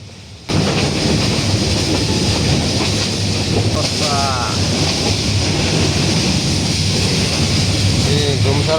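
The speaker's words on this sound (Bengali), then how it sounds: "অবশেষে অনেক ধৈর্য, অনেক অপেক্ষার পর আমরা আমাদের সিলেটগামী ট্রেনে উঠতে সক্ষম হয়েছি।" A passenger train bound for Sylhet runs on its rails, heard from inside as a continuous loud rumble and rattle that starts abruptly after half a second and keeps going steadily.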